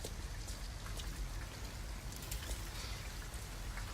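Steady rain falls in the video game Detroit: Become Human, a dense, even hiss of drops hitting surfaces that holds at a constant level throughout, with no voices.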